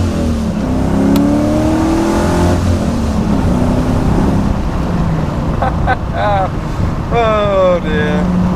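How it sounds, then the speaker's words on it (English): A car passing at an awkward junction, heard from inside a TVR over steady engine rumble and wind noise, a rising tonal whoosh as it goes by, with a voice talking now and then. "Ah, there's a car coming."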